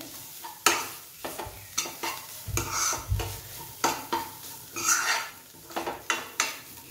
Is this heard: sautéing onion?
yes